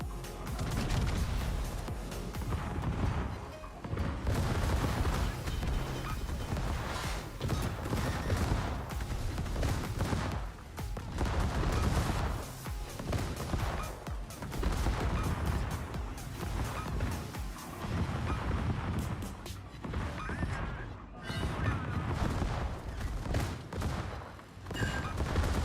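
Video game gunfire rattles almost nonstop, dense bursts and volleys of shots layered over rumbling game noise, loud and sustained with only brief dips.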